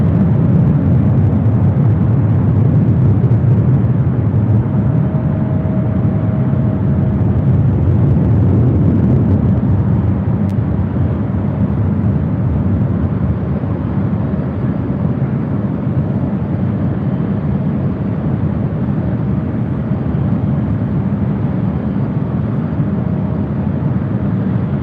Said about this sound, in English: LAT Polish Airlines, the Dreamliner now next up for takeoff on 24 left